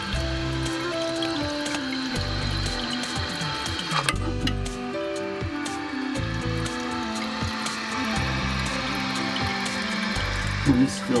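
A toilet tank refills after a flush: water flows and hisses through the fill valve with a steady tonal whine, continuous throughout.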